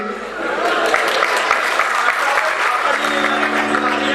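Audience applause at a Golden Jubilee gathering of the Voltas Employees Federation, dense steady clapping from a large crowd that continues throughout, with a held tone entering near the end.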